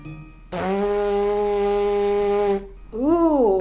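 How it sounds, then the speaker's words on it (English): A person buzzes their lips the way a trombone player does, producing a loud, steady, pitched drone for about two seconds. A short wavering buzz that bends up and down in pitch follows. "So my lips make the sound and they vibrate,"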